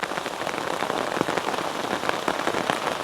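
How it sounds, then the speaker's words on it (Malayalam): Heavy monsoon rain pouring down outside a house, a dense continuous loud hiss of drops pattering on surfaces, no talking. "നല്ല സൂപ്പർ മഴ പെയ്തിരിക്കുകയാണ് ഗൈസ്"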